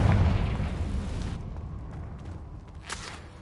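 A Confringo blast spell explodes in Hogwarts Legacy with a deep rumbling boom that decays over a couple of seconds, followed by a smaller sharp crack near the end.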